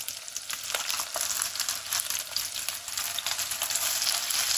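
Potato and carrot tikki frying in oil in a pan, a steady close sizzle with a few soft clicks from a spoon as the patties are flipped, no voices.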